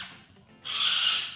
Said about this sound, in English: this is what happy parrots sound like. They scream.